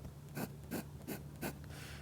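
A fountain pen nib scratches across paper in four short, evenly spaced strokes, quiet and close, over a faint low hum.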